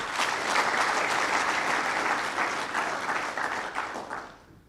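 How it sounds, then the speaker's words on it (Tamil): An audience at a business talk applauds in a dense, lively burst of clapping that holds steady, then fades out over the final second. "எனக்கு இந்த கைத்தட்டல் பிடிக்காது"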